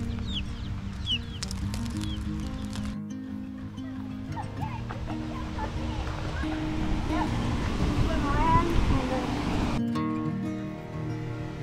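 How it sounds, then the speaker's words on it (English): Roosters and chicks clucking outdoors at Haruru Falls, scattered calls and chirps over steady ambient noise with a rushing water-like wash, moderately loud, with some voices in the background. "We've come to Haruru Falls and there's these roosters and chicks"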